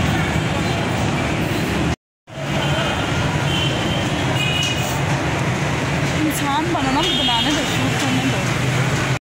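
Steady rumbling hum of a metro train at a station, a brief cut in the middle, with people talking throughout and a faint electronic chime near the end.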